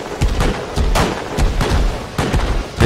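Repeated heavy gunfire bursts from a SAM site in the Rust video game firing on its own base, loud and close with several sharp volleys in quick succession.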